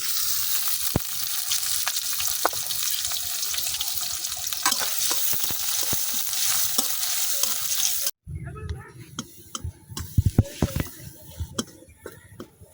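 Chopped onion and garlic with a bay leaf fry in hot oil for a lentil dish, a loud steady sizzle with stirring scrapes for about eight seconds, then softer crackling and clatters after it cuts abruptly quieter.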